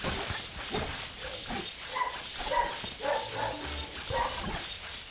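A dog barks and yips in a string of short, mid-loud calls through the stretch, set against steady room noise.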